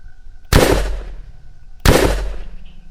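Two sharp, loud gunshots from a video game weapon, spaced about a second and a half apart, each with a short decaying tail.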